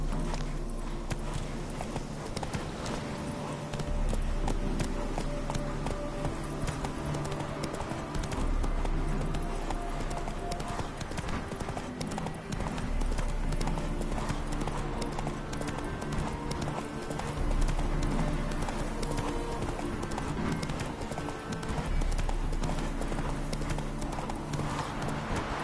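Horse hooves clip-clop steadily at a gallop in The Witcher 3, a continuous rhythmic pounding over ambient game music and background sound throughout.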